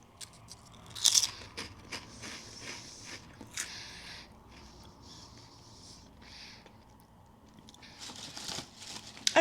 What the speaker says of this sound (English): I am going to crunch one